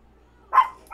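A dog barks once nearby, a short sharp bark after a quiet stretch, with the start of another bark right at the end.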